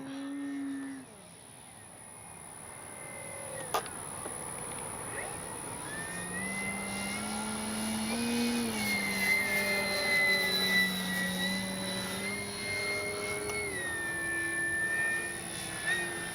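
A large electric 3X Flex RV8 60E RC airplane hangs on its propeller in a hover, its motor whining in a steady tone that slowly rises and shifts in pitch, heard from a moderate distance outdoors.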